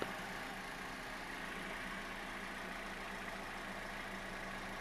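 A 2012 Scion iQ engine idles with a misfire, a steady close rumble and hiss that holds unbroken at an even level throughout.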